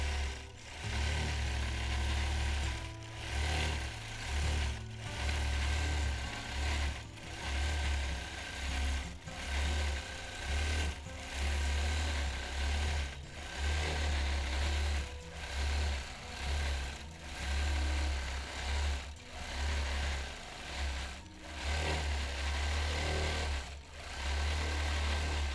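A home sewing machine does free-motion quilting of a paisley pattern, its motor running in long loud bursts with a steady rapid needle chatter and brief pauses between runs.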